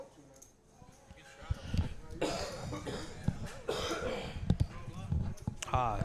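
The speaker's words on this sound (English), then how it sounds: "If you can hear me coughing in the background, I'm just getting over this cold" A person getting over a cold coughs and clears their throat a few times in the background while a voice keeps talking over it.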